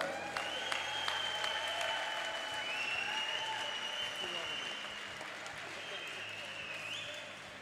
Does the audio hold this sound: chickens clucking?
no